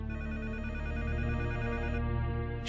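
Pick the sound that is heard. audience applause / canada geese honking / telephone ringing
telephone ringing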